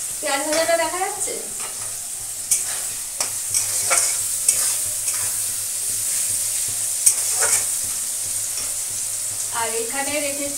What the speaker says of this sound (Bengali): পেঁয়াজ ভাজাটা দেখা যাচ্ছে।